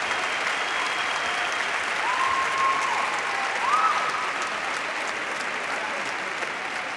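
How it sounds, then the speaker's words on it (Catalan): Sustained applause for graduates at a university graduation ceremony, an even, broad wash of clapping from a large crowd with a brief tonal squeal over it. "Un fort aplaudiment per tots ells i per totes elles."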